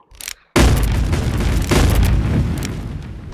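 Gunfire in the VR game Animal Company comes as a sudden heavy boom after a brief quiet, with a long rumbling tail and a second burst, loud and close.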